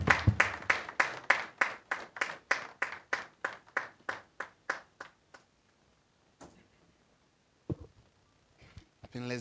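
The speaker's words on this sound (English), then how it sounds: "let's give him another round of applause" Clapping after a presentation on the learning crisis in Ghana, heard as a slow, evenly spaced run of individual hand claps that fades out midway, followed by quiet and a couple of brief sounds.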